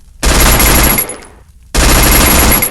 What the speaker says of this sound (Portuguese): Olha o tiro dele.